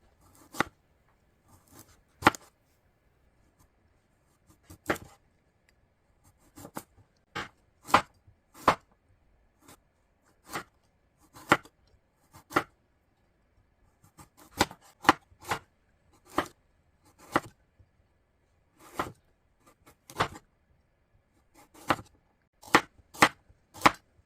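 Ginseng sliced diagonally with a knife on a cutting board: crisp, close chopping strokes, dozens in total, arriving in uneven clusters and single cuts with short pauses between.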